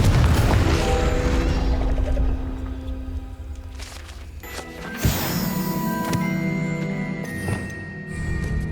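A Confringo explosive spell from Hogwarts Legacy on Nintendo Switch goes off as a booming blast over game music, followed by a second crash and lingering magical ringing tones.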